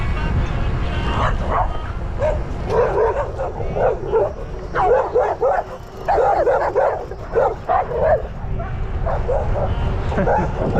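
A pack of dogs barks and yips in quick, overlapping bursts on a road stretch near Itatiaiuçu, fairly close and loud over a steady rumble of motion, with a voice mixed in.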